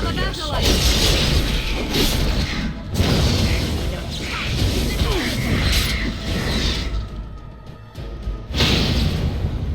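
Loud crashing, booming blast with shattering debris in the fantasy video game Dragon Age: Origins, set amid a battle in the Circle Tower, dense combat noise and clatter around it, with talk over parts of it.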